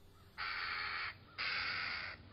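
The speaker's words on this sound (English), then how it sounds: "Dear Mr. Crow, what makes you laugh way up there in that tree? With your caw, caw, caw" A crow caws twice from up in a tree, two loud, harsh calls of similar length separated by a short gap against quiet outdoor ambience.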